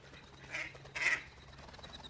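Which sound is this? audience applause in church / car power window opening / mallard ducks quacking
mallard ducks quacking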